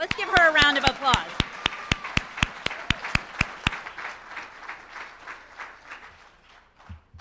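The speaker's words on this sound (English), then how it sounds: "Let's give her a round of applause." An audience at the Delaware Women's Hall of Fame induction ceremony applauds. Sharp, evenly spaced claps ring out over a softer wash of clapping, then thin and fade after about four seconds, with a voice briefly at the start.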